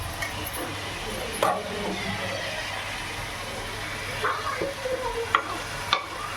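Chicken gravy with coriander and mint fries in a pan under continuous sizzling, with occasional stirring scrapes and clinks that grow more frequent toward the end.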